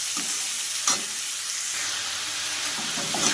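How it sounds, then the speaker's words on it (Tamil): Onions and curry leaves sauté in a pan for Bombay chutney, a steady, hissing sizzle with a few scraping stirs, close and continuous with no voices. "கருவேப்பிலையும் ஆட் பண்ணிக்கலாம் வெங்காயம் நல்லா வதங்கட்டும்"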